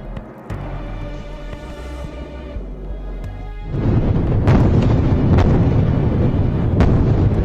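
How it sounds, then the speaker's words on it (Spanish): Rockets fired from the Gaza Strip toward Israel: a quieter stretch with a sharp thump gives way to a dense, roaring wall of blasts and booms that continues loudly to the end. "muestran las decenas de cohetes disparados desde la franja de Gaza hacia Israel"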